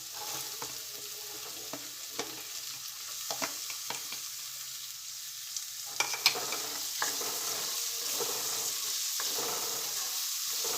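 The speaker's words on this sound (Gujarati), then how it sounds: "હવે એમાં આપણે એક કાંદો ઝીણો કટ કરીને રાખે છે એ આપણે એડ કરી દઈશું" Finely chopped onion sautéing in oil with garlic for dal fry, a steady bubbling sizzle with scattered crackles and occasional stirring clicks, close and continuous.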